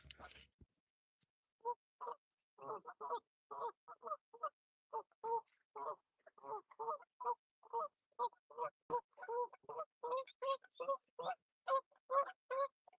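Geese call out by the water in a long series of honks, moderately close and recurring steadily, with a little talk in the background.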